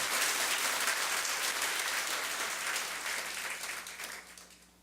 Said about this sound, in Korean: 하나님께 더 큰 박수 올려 돌리십시오.